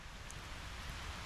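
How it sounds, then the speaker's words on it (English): Steady rain coming down outdoors in Nicaragua, a dense, even hiss of drops close by with no talk over it. "the rain's picking up quite a bit"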